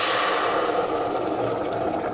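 Broad rushing, bubbling water noise, loud and steady, like a pot at a rolling boil while making beef barley soup, with no voices.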